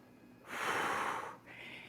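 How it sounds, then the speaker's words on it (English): Breathing in and out during a cardio workout: one long, close, breathy exhale lasting nearly a second, followed by a shorter, softer breath, with no talking. "Breathe in, breathe out."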